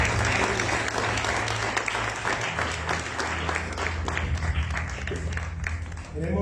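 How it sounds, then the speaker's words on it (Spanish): Church congregation clapping for the Lord at the close of a sermon, a steady full burst of applause with a low musical hum underneath and some voices mixed in. "Aplauda al Señor"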